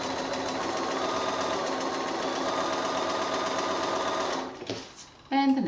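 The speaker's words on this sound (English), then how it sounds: "So I'm ready to put the next one in now, and I'll just keep on sewing." A domestic sewing machine chain-pieces quilt blocks, running in a steady, close, even whir for about four seconds before stopping, followed by brief handling clatter and a short burst of stitching.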